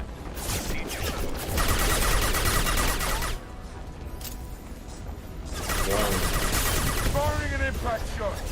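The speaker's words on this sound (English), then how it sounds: "Firing an impact shot." Impact shot gunfire in Mass Effect 2 rings out as bursts of sharp, rapid reports, loud and dense, with a quieter lull midway before more shots and mechanical clatter return.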